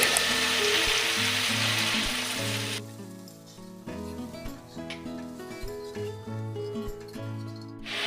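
Masala with cashew paste and milk cooks in a pan, giving a loud sizzling hiss at first that turns into softer bubbling and spoon stirring, with background music running throughout.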